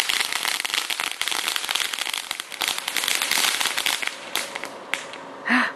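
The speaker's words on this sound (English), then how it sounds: "Carter, that was the fireworks show." A July 4th fireworks show crackles and pops in a dense, continuous barrage of sharp bursts, loud and sustained throughout, thinning slightly near the end with a final louder burst.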